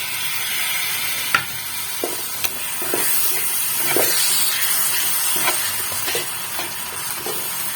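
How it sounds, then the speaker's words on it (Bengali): Coriander leaf paste is stirred into frying masala in a pan, loud continuous sizzling and hissing with repeated scraping strokes of a spatula against the pan. "এবার আমি এই ধনেপাতা বাটাটা অ্যাড করবো।"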